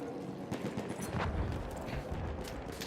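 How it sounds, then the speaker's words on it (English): Gunfire in the Battlefield video game: rapid bursts of shots and distant explosions crackle through a busy, mid-level battle mix, with several sharper reports standing out over the constant rumble. "Still shooting at me."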